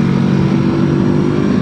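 A 2019 Honda CB500F parallel-twin motorcycle engine runs at a steady, loud, close drone with an even low throb and no revving changes.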